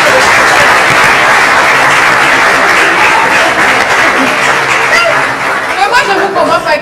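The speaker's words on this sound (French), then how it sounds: "Applaudissez pour la fourmi" A live show audience claps loudly while chatter and scattered laughter rise through the room, the applause thinning toward the end as voices take over.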